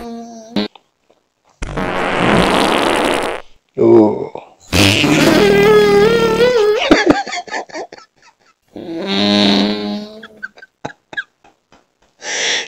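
Several loud, close fart noises from a novelty fart button, each a different length and pitch with gaps of silence between, some buzzy and squeaky, with brief laughter mixed in.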